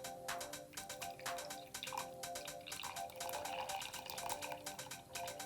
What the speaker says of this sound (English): while I am holding it here, pour the water in